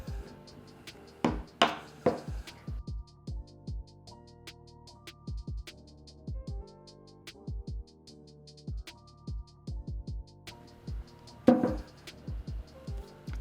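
A knife cutting through a halved kabocha squash on a board, with a series of crisp, close chopping knocks in uneven clusters, some quick runs and some spaced-out single strokes, with no talking.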